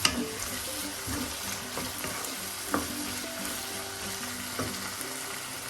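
Capsicum and onion sautéing in a pan, a steady close sizzle with spatula scrapes and stirring clatter throughout, no voices.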